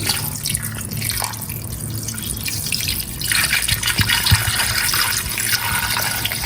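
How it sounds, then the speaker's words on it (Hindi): Water, about two glasses' worth, is poured into a cooking pot for a potato and mutton curry, giving a steady splashing, trickling flow that runs throughout and grows a little fuller partway through, close and fairly loud, with no talking. "अब हम शामिल करेंगे पानी। पानी तकरीबन आपने शामिल करना है 2 गिलास।"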